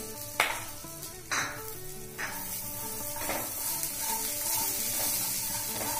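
Pistachios and raisins frying on a medium flame, a steady close sizzle broken by a few sharp scrapes or clinks of a spoon stirring in the pan, with no talking.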